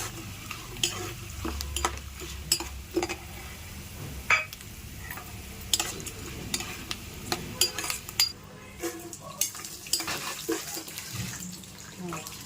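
Seasoning and cashews fry in a pan for pulihora, a soft ongoing sizzle broken by repeated scraping and stirring knocks, with a voice speaking intermittently over it.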